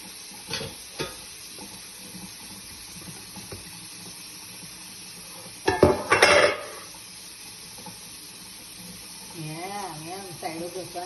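Dishes being scrubbed by hand while washing up, with soft rubbing and clinks, a louder burst of clattering scrubbing midway, and a voice talking toward the end.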